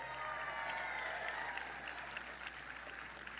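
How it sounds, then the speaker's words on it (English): A concert audience at an Oklahoma State music program performance applauds in a dense, even patter of many hands, heard faint and distant for a few seconds. "Let's give a round of applause to their mom and dads and families in the audience as well."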